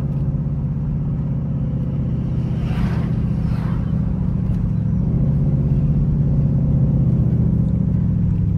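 A catless Dodge Durango RT engine downshifting, heard as a loud steady exhaust drone with a brief rising blip of revs partway through, recorded from inside the vehicle.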